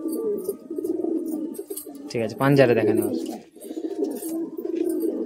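A pair of Napta pigeons coo close by in a cage, with low throaty calls around a louder burst in the middle, while someone talks over them.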